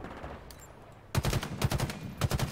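Rapid bursts of gunfire in Halo Infinite's campaign, with a sniper beam among the weapons, break out after a quiet stretch and repeat in several loud, punchy volleys.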